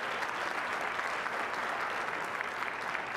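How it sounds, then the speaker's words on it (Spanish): Applause fills the room at an award ceremony, steady dense clapping from a crowd, fairly distant and even throughout. "Un aplauso, por favor, para ellos."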